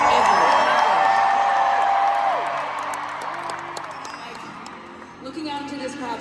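A large concert crowd at a concert tour in Cardiff cheers and screams, a dense, loud roar that swells and slowly fades, with a voice speaking over it.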